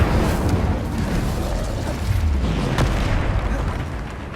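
Fire spell cast in the game Hogwarts Legacy, a dense, loud whooshing burst with rumbling crackle that holds steady for a few seconds.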